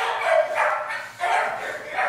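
Pet dogs bark indoors at a home in El Paso, letting out a few sharp, close barks in quick succession with brief gaps between them.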